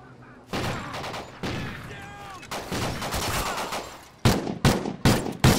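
Video game shotguns and other gunfire in a search-and-destroy match crack out in loud, rapid bursts, with a dense volley early on and several sharp separate blasts toward the end.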